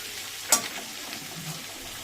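Ground spice paste frying with jackfruit and prawns in a pan, a sharp spoon knock early on, then a soft continuous sizzle and gentle stirring, with no talk.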